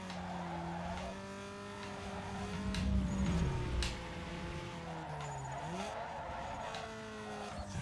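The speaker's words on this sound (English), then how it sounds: "Obviously a really good drift." A car drifts in the Need for Speed Underground 2 racing game, its tires squealing in long, gliding wails over a steady engine drone, with a louder rise in the middle and no talking.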